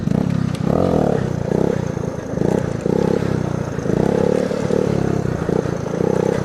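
A 110cc dirt bike engine running close and loud, pulsing through repeated revs and drops in a steady rough idle-to-throttle pattern with a faint clatter, no voices.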